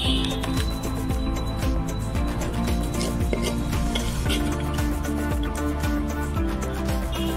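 Hot puffed rice mixture tipped from a pan onto a tray with roasted peanuts, a dense, continuous rattle of grains and scraping of metal, loud and close throughout, with no talking.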